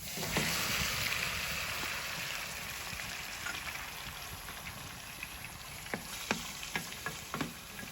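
Tomatoes sauté in a new pan over onions and peppers, giving a steady soft sizzle with bursts of crackling and a few stirring clicks near the end, faint and with no talking.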